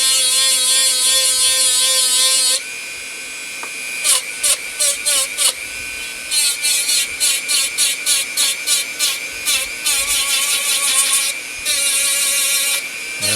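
A power sander works over a wooden stump, its loud motor whine holding steady and then surging in rapid repeated bursts as it presses against the wood, close by.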